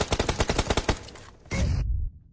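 Rapid automatic gunfire in PUBG Mobile, about nine close, loud shots in a steady rhythm, followed by a brief harsher burst of fire near the end.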